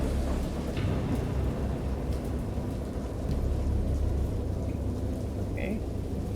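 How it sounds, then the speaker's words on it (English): Steady heavy rain pours through a storm while low thunder rumbles underneath, a dense, continuous wash with a few brighter drips, fairly loud and enveloping. "It's raining."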